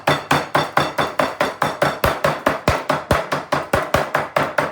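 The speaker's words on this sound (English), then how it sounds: "I haven't got a meat hammer, but I have got a rolling pin, and I can bash it a bit thinner" Rapid, steady thuds of a rolling pin pounding chicken breast thin, about four times a second, each blow sharp and close, continuing without pause.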